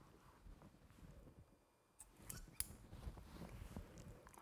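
Scissors snip through a plaster forearm splint, giving quiet, faint crunching cuts in a soft, steady rhythm close by, with no talk.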